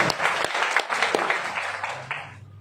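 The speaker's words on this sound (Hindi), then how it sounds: "एक बार फिर से अपने आप के लिए शानदार तालियां कि आप इस हॉल में हैं सर।" An audience in a seminar hall claps, a burst of loud, uneven applause with distinct sharp claps that gradually thins and dies away after about two seconds.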